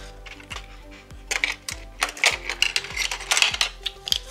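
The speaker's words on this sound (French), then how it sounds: "Je vais prendre mes ciseaux" Scissors cut through paper strips for a vintage-style scrapbook Advent calendar, a quick run of crisp, clicky snips in an uneven rhythm, close and moderately loud.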